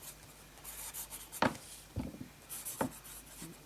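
A fountain pen with a broad Lamy nib writes in pink J Herbin Rose Tendresse ink, giving a few soft, close scratchy strokes on paper with short pauses between them, quiet and without talking.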